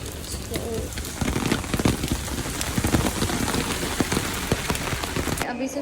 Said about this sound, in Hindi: हर रोज बारिश होती है रात को.